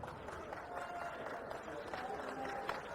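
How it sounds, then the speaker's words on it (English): Applause from a home crowd of San Juan fans at a high school basketball game against Uintah, a steady wash of clapping and crowd noise heard from a distance, holding even through the whole stretch. "And get some applause here from the San Juan folks"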